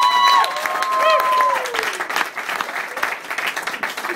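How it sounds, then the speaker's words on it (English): Crowd at a Guitar Center drum-off regional final applauds for a drummer, a loud burst of clapping and cheering that tapers into scattered claps, with an announcer's voice carrying over the start. "let's give a round of applause for Mr."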